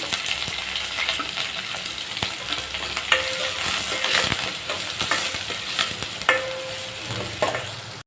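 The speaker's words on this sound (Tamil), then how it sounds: "அது கூட கொஞ்சமாக கருவேப்பிலை அதையும் சேர்த்து நல்லா வதக்கி எடுத்துடலாம்" Chopped medium onions and curry leaves sautéing in a pan for a Tamil pirandai kuzhambu, loud continuous sizzling with repeated scraping stirs and ladle knocks, no voices.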